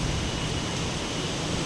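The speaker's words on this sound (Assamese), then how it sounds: "কিমান জোৰছে ঘূৰ্ণী বতাহ আহিছে।" A strong whirlwind blows outdoors during a pre-Bihu celebration practice, a loud, steady roaring rush of wind buffeting close by without a break.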